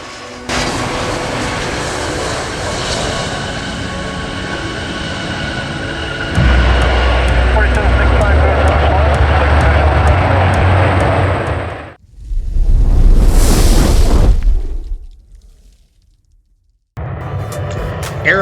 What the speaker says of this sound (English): This is the new livery USA Jet MD-88 that flew in.